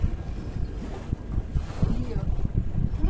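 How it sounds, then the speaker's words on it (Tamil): A houseboat motors along the Alappuzha backwaters in Kerala, with a low engine rumble, water wash and wind buffeting the microphone, fairly quiet, and a voice faintly in the background. "இப்ப நான் உங்களுக்கு போட் ஓட்டி காட்ட போறேன்."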